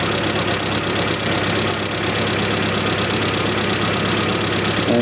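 Car engine with an SU carburettor holds a steady, close, loud idle as the idle screw is turned clockwise, a continuous mechanical drone with faint knocking texture and no voices.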